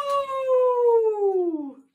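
A cat gives a single long, drawn-out meow that slowly falls in pitch over about two seconds, loud and close, with no other sounds around it.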